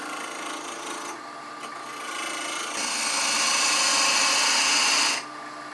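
A dried cherry wood blank is trued up in a woodworking shop, giving a loud, steady abrasive rasping and cutting roar over a motor hum that rises midway and then stops abruptly.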